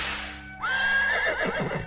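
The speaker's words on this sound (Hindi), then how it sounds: "गाड़ी वाले ने चाबुक चलाई और घोड़ा गाड़ी दौड़ गई।" A horse pulling a carriage lets out one loud, close whinny as the carriage sets off, with faint hoof clatter underneath.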